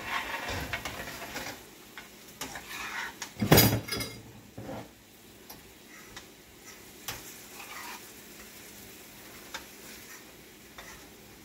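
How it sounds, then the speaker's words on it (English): Vegetables cooking in a pan give off a low, steady sizzle, with a loud burst of stirring or pan handling early on and scattered faint clicks afterwards. "Our vegetables need to cook just a little bit longer, so we're going to give them another minute or two to cook."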